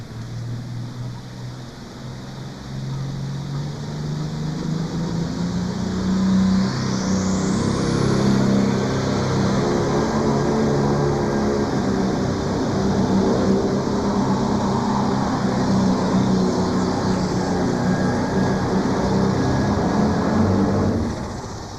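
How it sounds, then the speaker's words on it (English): A John Deere 4430 pulling tractor roars steadily at a tractor pull at the National Farm Machinery Show. The engine note stays loud and sustained, with a rising whine as it strains down the track. "driving the Rampage John Deere"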